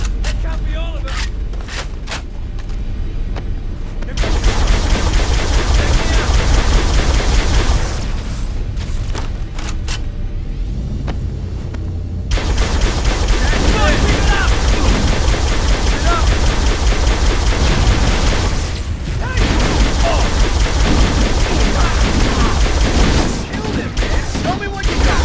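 Dense, loud bursts of automatic weapon fire and booming blasts pour out in the Halo Combat Evolved Anniversary battle against the Covenant, with brief lulls between long sustained volleys.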